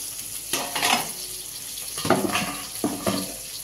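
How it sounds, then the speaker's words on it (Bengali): Spices and ginger paste sautéing in a pan for Bengali prawn curry, with intermittent sizzling bursts and stirring scrapes separated by quieter frying hiss, close and moderately loud, no talk. "এবার এটা দিয়ে ভালো করে কষা হবে"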